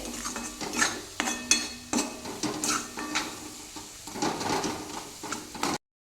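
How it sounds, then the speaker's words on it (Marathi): Salt is stirred into moong dal with katwal vegetable in a pan, giving close, uneven scraping and clinking strokes of a spoon against metal with light sizzling, until a sudden stop. "आता यामध्ये चवीपुरतं मीठ घालणार आहे हे छान एकजीव करून घ्यायचं आहे"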